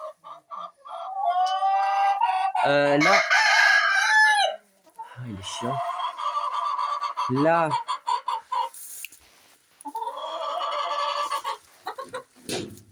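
A young rooster crows loudly and close, several ragged crows in a row, while hens cluck around it in a farmyard; a man makes a short remark between calls.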